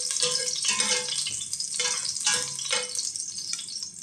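Garlic and ginger sauté in hot oil for chicken sotanghon soup, a bright, crackling sizzle with surges as the pan is stirred, and no voices over it.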